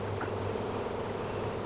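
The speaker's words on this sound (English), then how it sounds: "Not the fact that I've got bees swarming" A honeybee swarm at an apiary hive, a dense steady buzz of many bees close to the microphone, continuous and fairly quiet.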